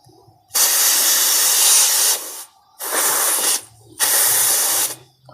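Refrigerant freon hissing out of a loosened hose fitting on a refrigerator charging line, heard as three loud, close bursts of broadband hiss, the first about two seconds long and the next two shorter, separated by brief gaps.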